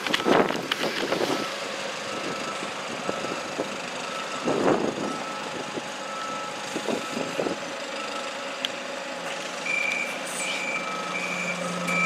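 A bus pulls into Telford bus station at night, its engine rumbling under a repeated high reversing beep that pulses through most of the stretch, with no talking.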